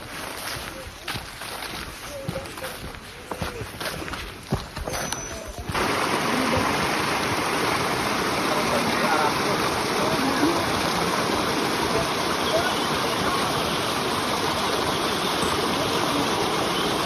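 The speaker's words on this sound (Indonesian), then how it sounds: "Ini kalau dilihat, ini ada aliran sungai." A river stream in a pine forest rushes steadily and loudly, a broad continuous wash of flowing water that swells after a few seconds and stays constant.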